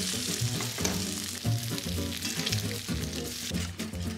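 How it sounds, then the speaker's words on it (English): Bacon sizzles and crackles steadily in a hot pan while being flipped until crispy, a close, continuous frying hiss with small spatters and a few light utensil clinks, no talking. "Let's flip our bacon. Nice and crispy."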